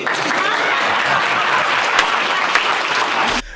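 Dense applause from an audience at a real estate talk fills nearly the whole stretch, loud and steady, then cuts off sharply near the end.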